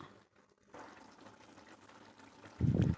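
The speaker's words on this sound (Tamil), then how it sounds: "நல்லா புளி பச்சை வாசனை போகிற வழியும் கொதிக்கட்டும்." A pot of tamarind gravy with eggplant bubbling and simmering steadily, with a louder burst of bubbling near the end; no talking.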